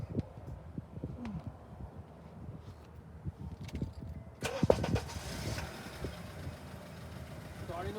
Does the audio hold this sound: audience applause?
no